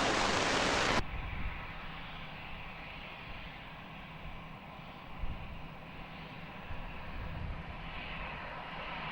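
An airliner takes off from runway 20 at Lisbon Airport, a steady broad roar of jet engines heard from a distance after a brief burst of static hiss.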